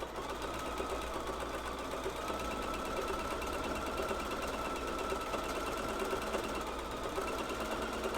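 A sewing machine runs nonstop at a steady rate, stitching a wavy line along women's underwear fabric. The hum and rapid needle patter stay constant and fairly soft throughout, and no one speaks.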